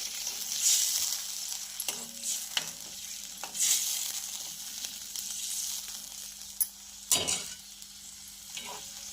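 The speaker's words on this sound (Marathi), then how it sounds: "पाण्याला छान उकळी आलेली आहे" Water comes to a boil in a pan for besan pithla, giving quiet, irregular bubbling pops and a few sharper bursts over a low steady hum. No one speaks.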